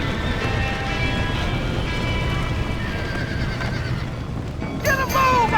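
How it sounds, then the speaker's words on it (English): Horses inside a burning barn in the video game Red Dead Redemption, with a sharp neigh breaking out near the end over a constant roar of fire and background noise. "I gotta get them horses out!"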